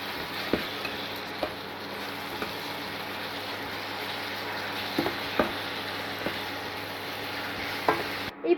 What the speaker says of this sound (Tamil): தக்காளியும் இப்போ இதிலே சேர்த்துடலாம். சேர்த்துட்டு நல்லா கலந்து விட்டுக்கோங்க.